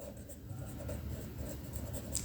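Writing by hand on paper: a quiet, continuous scratching of a pen in short strokes under a low steady room hum, no speech.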